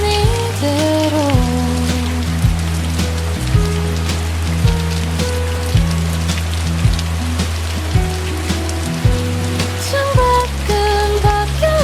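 Steady rain falling as a soft white-noise bed beneath lo-fi music with piano and bass, the patter continuous and even throughout.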